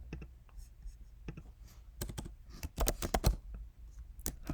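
Fingers type a git command on a computer keyboard at a terminal, a quiet, irregular patter of key clicks that bunches into quick bursts of taps, close and soft with no one talking.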